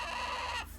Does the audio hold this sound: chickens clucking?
yes